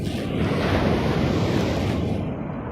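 Steady ocean surf at Myrtle Beach Oceanfront State Park, a continuous broadband wash of breaking waves mixed with wind buffeting the microphone, fairly loud and unbroken throughout.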